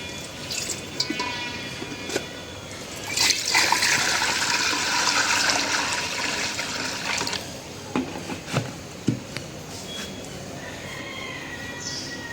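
Water is poured into a wok to cook rice with lentils, starting as a gentle trickle, swelling into a fuller splashing gush, then tapering into scattered drips and small splashes.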